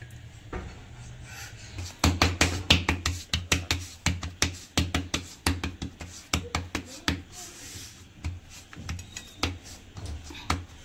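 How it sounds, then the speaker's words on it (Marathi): Bhakri dough being patted flat by hand on a board, a dense run of sharp slapping pats in quick irregular rhythm, close and fairly loud, with a hot tawa on low flame in the kitchen. "असे याच पद्धतीने आपण असे थापून घ्यायचे।"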